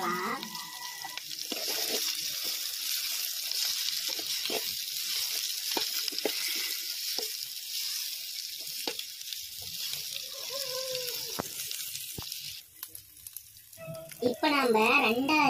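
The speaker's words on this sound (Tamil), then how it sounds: "இப்போ நம்ம அரிஞ்சு வச்சு வெங்காயத்தை போட்டு நல்லா வதக்கிக்கலாம்." Chopped onions sauté in oil with curry leaves for a village-style country chicken fry, giving a continuous sizzle with occasional stirring clicks, and a voice briefly sounds near the end.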